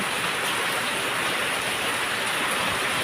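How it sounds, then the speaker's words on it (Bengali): Heavy monsoon-season rain pours down in a continuous, dense hiss with no pauses, filling the whole scene evenly and loudly, with no voices present. "মুষলধারে বৃষ্টি নামছে"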